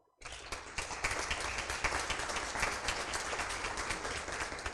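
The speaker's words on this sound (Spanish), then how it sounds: "Los recibimos con un cálido aplauso." Warm audience applause greeting a speaker at a talk on cultural and digital transformation, starting abruptly after a brief silence and continuing as steady, full clapping.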